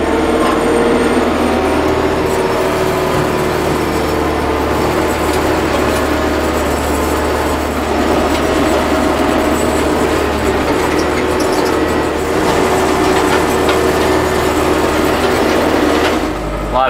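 A garden tiller churns hay into homestead garden soil, its loud, steady engine drone and grinding tines filling the whole stretch without a break.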